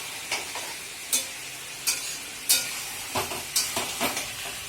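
Meat is stir-fried on high flame in a kadai, with a steady sizzle punctuated by about eight sharp scraping strokes of a spatula in an irregular rhythm, close and unaccompanied by voices.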